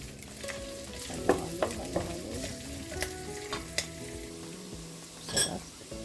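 Ground beef is stirred into sautéed vegetables for mekus mekus in a pan: soft sizzling frying beneath scattered scrapes and clacks of a utensil against the pan, fairly close and moderately quiet.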